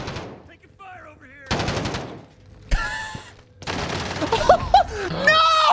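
Automatic gunfire bursts in a Warzone Rebirth Island match, sharp loud volleys cutting in and out amid game effects, with players talking over the action.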